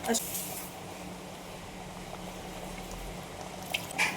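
A steady bubbling, watery simmer of prawn masala curry in a pressure cooker fills the background, with a rush of hot water being poured and faint clinks near the end; a voice speaks briefly over it.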